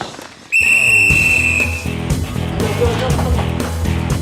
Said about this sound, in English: blew the loud whistle